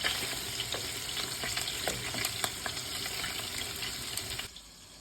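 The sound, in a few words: beef patties frying in pan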